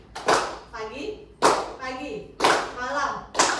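Children in a classroom game clap their hands in short, sharp bursts roughly once a second, with a teacher's voice calling out between the claps.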